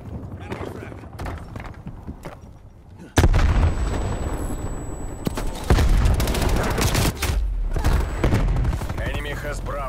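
Gunfire rattles through a Call of Duty Black Ops Cold War match on the Nuketown '84 map, sudden loud bursts of rapid shots with a booming low end that keep going in dense volleys to the end.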